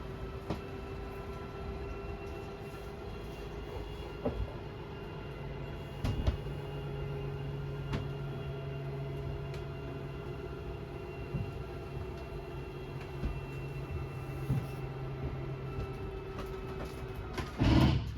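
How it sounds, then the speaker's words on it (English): An RV slide-out motor runs steadily as the slide extends, a continuous low mechanical hum with a faint higher whine, close and even throughout, with a brief louder clunk near the end as it reaches its stall. "Press and hold out, and the slide will make its way out."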